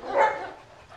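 A single short bark from a dog among a pack of Alabai forest dogs outdoors, moderately loud and somewhat distant, fading quickly into quiet background.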